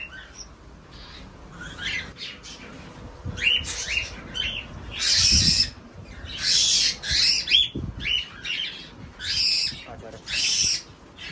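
Cockatiels and their chicks in a cage give off bursts of shrill chirps and squawks, coming in loose clusters with short pauses between them, over a soft background hum.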